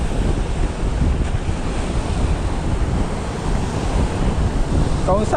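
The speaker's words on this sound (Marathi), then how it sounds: "लाटा बेकार येतो" Rough sea surf breaks on the shore at a fishing spot, making a loud, unbroken roar of crashing water. Heavy wind noise batters the microphone throughout.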